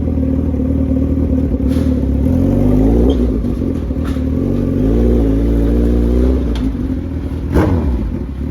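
A Suzuki Hayabusa 1300 motorcycle engine runs loud and close, its revs rising and falling in several swells over a steady mechanical rumble.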